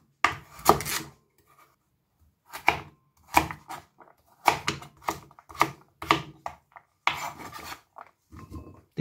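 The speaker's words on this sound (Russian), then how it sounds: "Ну и нарезаю тыкву на небольшие кубики." A knife chops peeled pumpkin into small cubes on a board, producing loud close-up bursts of rapid cuts separated by short pauses, with no voices.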